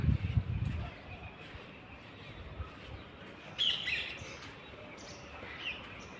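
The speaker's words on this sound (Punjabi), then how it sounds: "ਪੰਛੀ ਜੈ ਚਹਾ ਰਹੇ ਨੇ" Birds chirp outdoors on a morning with a cool breeze: scattered, fairly faint calls come in short bursts over a soft, steady background, with a low rumble at the very start.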